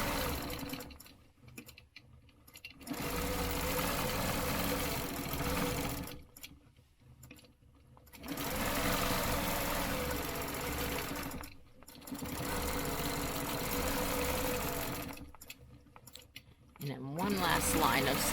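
A sewing machine stitches quilting lines in four long, rapid whirring runs separated by short pauses, close and clear.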